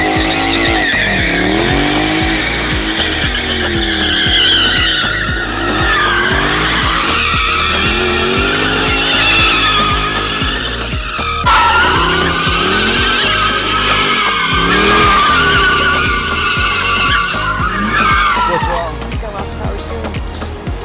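Car tires skidding and squealing loudly and continuously, the engine revving and wavering underneath as the car slides, with voices talking over it.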